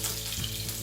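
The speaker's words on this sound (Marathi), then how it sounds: "आता आपण पॅन मध्ये तूप घालून घेऊया." Ghee sizzling in a pan on a gas stove while making besan barfi, a brief, soft, steady frying crackle heard close up.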